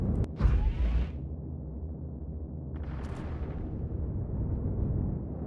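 A gun turret in the space game Star Citizen blows up with a loud, brief blast near the start, followed by a rumbling low roar and a second burst of debris-like crackle a few seconds later.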